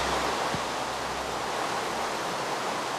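A long waterfall in the Minecraft video game, a constant, broad rushing hiss of falling water that stays even and unbroken throughout.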